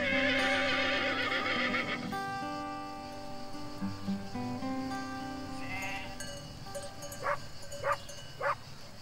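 A horse gives a few neighs and whinnies, loud at the start and then fainter, with some clattering movement and background noise between the calls.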